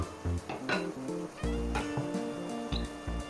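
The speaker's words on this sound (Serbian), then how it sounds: "Meso povremeno promešajte dok seckate luk da vam ne zagori." Meat cooks in a pot while onion is chopped nearby, giving a run of close knife taps and clinks of cookware over a soft sizzle, steady and uneven in rhythm.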